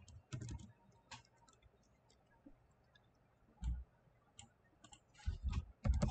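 Someone types on a computer keyboard nearby, producing quiet irregular key clicks and short bursts of taps separated by pauses, with no one talking.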